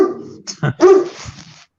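A dog barks close by in a short burst of two or three sharp, yelping barks with a whiny edge, loud and alone, then silence.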